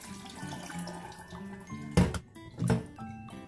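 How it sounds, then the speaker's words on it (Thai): Water runs from a kitchen tap over soaked ingredients, steady splashing with two louder gushes as they are poured into a strainer, close and unaccompanied by voices. "เสร็จแล้วก็คือจะมาล้างเอาขี้ฝุ่นออกก่อนเนาะ เราก็จะมาเทใส่ตะแกรงค่ะ"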